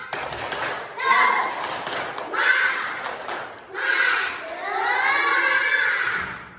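Schoolchildren in an Indonesian elementary classroom perform the tepuk semangat clapping chant, voices chanting in bursts with rhythmic claps, close and lively, in several rising phrases with short pauses between.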